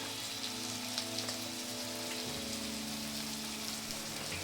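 Onions fry in a pan with turmeric, giving a steady, close sizzle and crackle that runs evenly throughout without talk.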